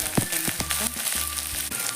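Curry leaves dropped into hot oil on low gas while cooking a spicy matar (pea) sabji, giving a close, steady frying sizzle with scattered crackles and pops.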